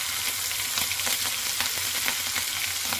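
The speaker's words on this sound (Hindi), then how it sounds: "और एक चाय का चम्मच ज़ीरा ऐड कर रही हूँ। और मैं इसमें साथ में हरी मिर्ची, चार हरी मिर्ची कट करके रखी हूँ वो ऐड कर लूँगी।" Cumin seeds and four chopped green chilies frying in hot oil for an aloo jeera fry give a steady, close sizzle dotted with small crackles and pops, with no talking.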